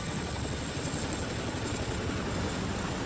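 A Chinook twin-rotor military helicopter flies overhead at an air force anniversary display, carrying an underslung 20-foot sea container, giving a steady, dense roar of rotor and engine noise throughout with no voices.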